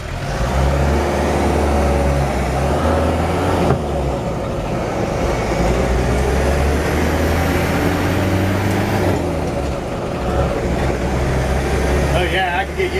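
A 1982 Land Rover Series III drives along a dirt road, its engine droning loudly and steadily close by with rough low rumble and rattling throughout, shifting in tone partway as it runs.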